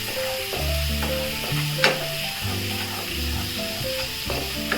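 Boiled bottle gourd goes into fried spices in a kadai, giving a close, continuous sizzle with stirring and scraping and one sharper clank near the middle.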